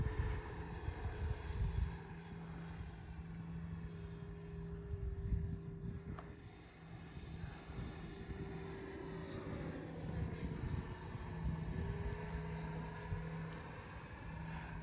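A 90mm electric ducted-fan RC model of an F-18C Legacy Hornet with retracting landing gear flies overhead, making a steady whooshing whine that rises and falls in pitch as it passes, heard at a moderate distance without talk.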